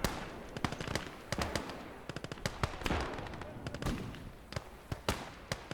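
Artillery shells and gunfire in a WWII video game set on the Eastern Front near Moscow in 1941, a dense run of sharp cracks and bursts at irregular intervals over a rumbling battlefield background.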